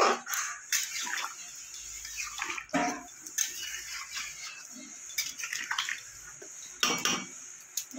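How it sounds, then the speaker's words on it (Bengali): Water is poured into a pot of cooking bottle gourd, its stems and potato curry, with splashing and clinking of pot and utensils in short, close bursts. "এবার আমি দিয়ে দেবো জল।"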